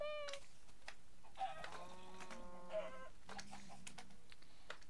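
Short clucking bursts from a chicken in Minecraft, several calls in quick succession, fairly faint against quiet background.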